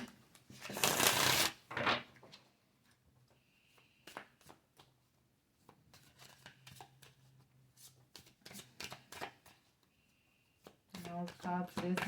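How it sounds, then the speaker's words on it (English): A deck of tarot cards shuffled by hand, a loud riffling burst near the start followed by scattered soft taps and card slaps, with quiet talk in the background and another riffle at the end. "It's going to be a live shuffle."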